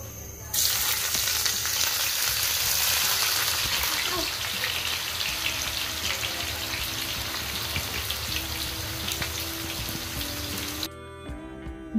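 About 2.5 kg of onions sliced to one size fry in oil for crisp beresta, a loud, steady sizzle that holds for nearly the whole stretch before cutting off near the end.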